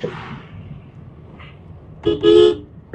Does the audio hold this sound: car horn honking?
yes